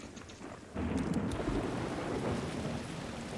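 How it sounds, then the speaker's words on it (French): A thunderstorm in the video game Days Gone rumbles with steady rain, the downpour swelling suddenly louder after a quieter start, with a few faint high tones early on. "Le simple fait d'entendre le bruit de l'orage"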